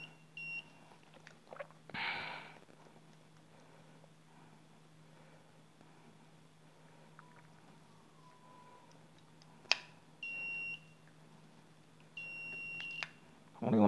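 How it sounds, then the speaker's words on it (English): Several short electronic beeps at irregular intervals while the button of an Acura/Honda vehicle stability assist switch is tested, fairly faint against a low steady hum, with occasional clicks and handling noise. "Press the button, beeps."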